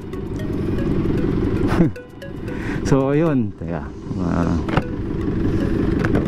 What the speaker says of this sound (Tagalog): Maingay yung makina mo parang katok